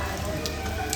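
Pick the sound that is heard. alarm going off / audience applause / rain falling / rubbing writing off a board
rain falling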